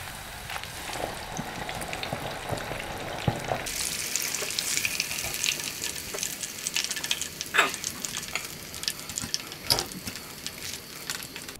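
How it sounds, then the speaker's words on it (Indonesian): Flour-battered chicken coated in chili sauce goes back into hot oil for a second fry, and a loud, steady sizzle crackles throughout, with an occasional clink or scrape of a utensil against the pan. "Kita goreng lagi."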